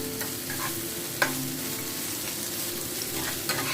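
Vegetables for Singapore noodles stir-fried in a wok over high heat, a loud, steady sizzle with scraping stirs and a couple of sharper clacks of the utensil against the pan.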